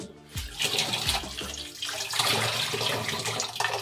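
Water runs from a kitchen tap while dishes are washed, a steady close splashing stream that carries on through the whole moment with faint clatter underneath.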